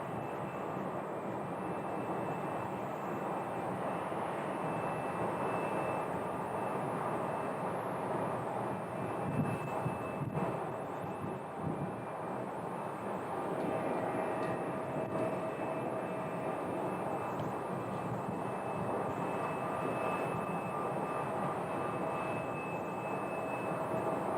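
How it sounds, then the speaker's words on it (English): An Airbus A319 airliner at Sky Harbor airport produces a steady, sustained engine roar that holds at an even level for the whole stretch, with no voices. "we have another A319 up next"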